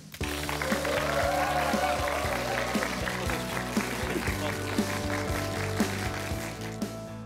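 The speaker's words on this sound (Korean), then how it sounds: "오늘의 강연자, 해태 타이거즈의 영원한 4번 타자 김봉현 교수님을 여러분의 큰 박수로 모시겠습니다." An audience at a lecture event applauds to welcome the speaker, a dense continuous patter of clapping that stays fairly even, with some background music or tones underneath.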